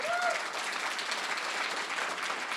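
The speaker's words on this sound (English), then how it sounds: "And you should just clap louder" An audience at a youth event in Detroit claps steadily, a broad, even patter of many hands at moderate distance, with a brief tonal chirp at the very start.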